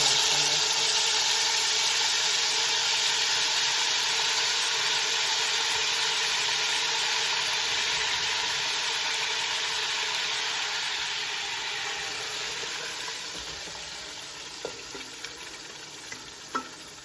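Meat stew frying in oil as water is poured in, a loud steady sizzle and hiss close up that slowly fades and quiets over the stretch, with faint stirring clinks near the end.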